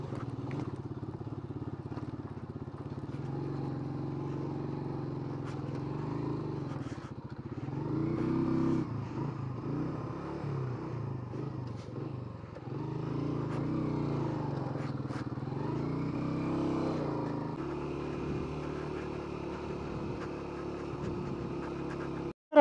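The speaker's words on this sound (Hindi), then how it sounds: "ये कोई अपने बाइकर भाई आ रहे हैं।" A motorcycle on a mountain road near Lake Saif ul Malook in Naran drones and revs as it comes closer, its engine rising and falling in swells over a long, moderately loud stretch with brief clattering.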